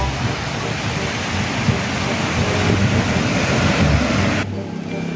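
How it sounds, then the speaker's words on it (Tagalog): Heavy rain and strong wind roar outdoors as a loud, dense rush with gusting buffets against the microphone, which drops off abruptly near the end. "Ulan, hangin."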